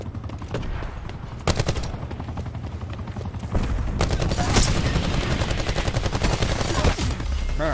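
Rapid automatic gunfire in Call of Duty Black Ops 4 multiplayer, loud and close, with dense bursts and sharp single cracks over a low rumble that runs almost without a break.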